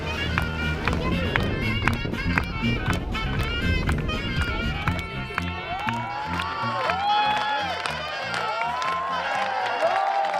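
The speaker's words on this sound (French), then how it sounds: "sous les applaudissements du public" A festival crowd applauds and cheers outdoors as a performer lands, with steady dense clapping and shouts, some children among them, continuing under a spoken voice.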